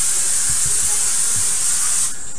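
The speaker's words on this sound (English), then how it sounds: "we're going to spray it so that it doesn't stick to the pan" Cooking spray hisses steadily onto a pan for about two seconds, a loud, close, continuous aerosol spray that cuts off abruptly near the end, with faint kitchen handling thumps underneath.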